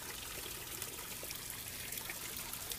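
Water trickles and drains steadily through the gravel-like aggregate media of a bioponic grow bed just after its flooding cycle, a soft continuous hiss and dribble, close and fairly quiet, with no talk.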